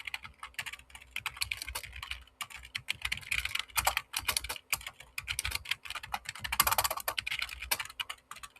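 Rapid, steady typing on a computer keyboard while writing basic code for a greedy algorithm, with dense clusters of close, crisp key clicks running throughout, no talking.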